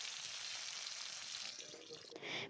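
Bay leaf and whole cumin hit well-heated oil for a soybean curry, making a dense steady hiss of frying, with a brief spattering flare near the end.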